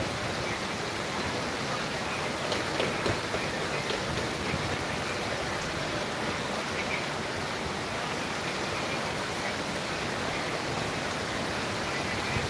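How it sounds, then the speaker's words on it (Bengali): Heavy rain falling on a road at Kajla, Jatrabari in Dhaka, a steady dense hiss of downpour that continues without a break at moderate loudness. "প্রচুর বৃষ্টি হচ্ছে"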